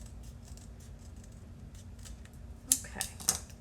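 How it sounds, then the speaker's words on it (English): Scissors trimming the bottom edge of cardboard for a recycled-book craft, heard as a few crisp close snips near the end after a quiet stretch, with no talk. "I'm going to do a little trimming at the bottom here because I don't want my cardboard to show."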